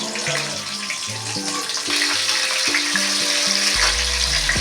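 Green chillies and black cumin seeds sizzle loudly in hot oil in a pan, a dense, continuous close-up hiss that rises midway, with a low melodic tone running underneath and no one speaking.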